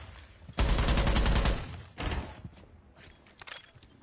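Sustained burst of automatic gunfire sprayed during a competitive tactical shooter match, loud and rapid from about half a second to 1.5 s, followed by a shorter burst and scattered quieter shots and thuds.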